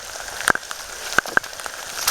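Rain falls on a soggy river trail in a forest, a steady patter with a few sharper drops landing close by.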